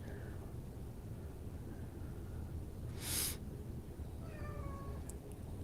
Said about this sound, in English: I know you want my attention. My cat has come for me.